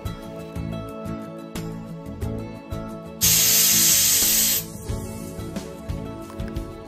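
A pressure cooker holding mutton curry with fried potatoes, cooked without onion, lets out one loud burst of hissing steam for over a second. Quieter kitchen background noise surrounds it.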